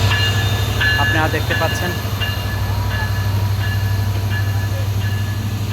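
Madhumati Express pulling into platform two at Rajbari railway station in Bangladesh, a steady low rumble with rhythmic wheel clatter and a few high squeals, someone talking over the train noise throughout.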